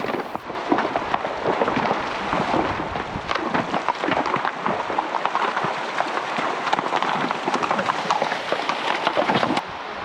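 A pack horse moves along a muddy back-country trail, its hooves giving a steady run of near, fairly loud thuds and splashes with no talk over them.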